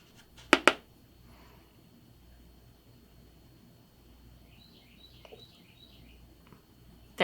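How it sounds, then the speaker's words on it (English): Recorded birdsong plays softly in the background of a makeup tutorial: a few faint, high chirps arrive mid-clip over a low steady hum, with two sharp knocks near the start. "There we go with some birds."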